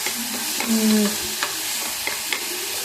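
Spices with China salt frying in oil in a pan, a close steady sizzle with a few light spatula clicks and a brief scraping stir, no voices.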